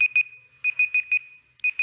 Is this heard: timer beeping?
yes